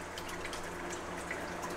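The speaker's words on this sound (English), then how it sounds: "So now we're gonna put the solution in." Dyna Gro nutrient solution pours into a cucumber propagation container in a soft, steady trickle of splashing water, faint and continuous with no talking.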